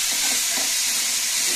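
Bacon crackles in a pan coated with a light spray of oil, producing a dense, loud, steady hiss of sizzling that fills the whole moment without pause.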